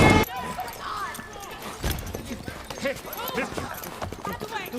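Hooves clip-clop at a steady trot amid busy background noise and voices, moderately close throughout, from the film Indiana Jones and the Dial of Destiny.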